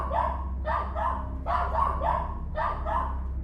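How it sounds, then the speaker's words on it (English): A restless dog barks repeatedly outdoors in sharp, evenly spaced bursts, about six in a row, loud and close over a steady low background hum. "the 3rd grew agitated and began barking at something odd"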